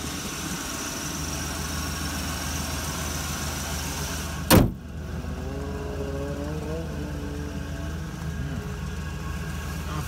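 A 1985 Oldsmobile Delta 88 engine idles steadily after its first cold start-up of the year, a low constant rumble with one sharp loud knock partway through and faint wavering tones afterward.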